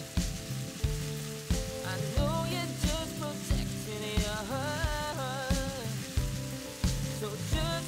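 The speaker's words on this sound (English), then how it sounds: "I'm just gonna cook that until it's nice and brown and cooked through." Chicken thighs sizzle and fry steadily in a pan, a continuous crackle running under background music with a regular beat.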